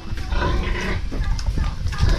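A large farm pig, a sow around four months old, grunting and snuffling continuously at close range, a rough, low, steady sound with no talk over it.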